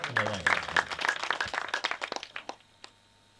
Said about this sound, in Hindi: एक मरतबा और तालियां बजा दीजिए